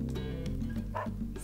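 A dog in the video game Dog's Life, at a Lake Minniwahwah ski slope, gives a few quick, quiet yipping barks over a low, steady game backdrop.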